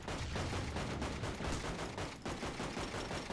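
Pistol fire in the Shattered Horizon video game, a dense run of loud, rapid gunshots close up, continuing for several seconds with only a brief dip.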